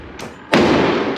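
A Smith & Wesson M&P 2.0 10mm pistol fires bear loads, two sharp reports close together with the second louder, followed by a lingering outdoor echo and no talking.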